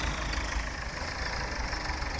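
A 1961 farm tractor engine idles in a steady low rumbling chug, close and continuous, with no talk over it.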